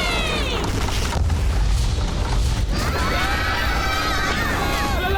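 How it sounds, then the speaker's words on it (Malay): A cartoon spaceship's pirated spare part explodes with a deep boom and crashing debris, followed by rattling and ringing tones while characters talk over it. "Bahagian cetak rompak tu dah meletup."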